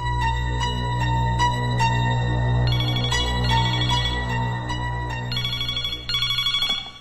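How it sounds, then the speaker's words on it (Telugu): A telephone bell rings in repeated bursts of bright electronic trills, loud and close, with no one speaking over it. "రే చిన్న, ఫోన్ రా."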